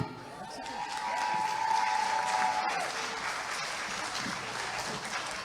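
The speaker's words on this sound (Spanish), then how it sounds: "Como su fuerte aplauso" A crowd at a children's and teens' Christmas song festival applauds a contestant, with sustained, moderately loud clapping, a brief sung or whistled tone drifting over it early on and faint voices in the background.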